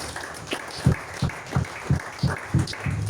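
A church congregation claps in rhythm during a French-language service, with loud, evenly spaced claps about three per second and a steady hum of crowd noise underneath.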